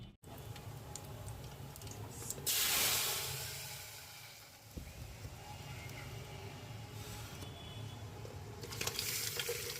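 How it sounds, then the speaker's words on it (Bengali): Dal tempering (baghar) in hot mustard oil, cooked with jali, sizzling and hissing steadily and close up, with a louder burst of frying a few seconds in and a steady crackle continuing throughout. "জালি দিয়ে ডাল রান্না করেছি, আর বাগারটা কেমনে স্যাত করে উঠেছে দেখেন না"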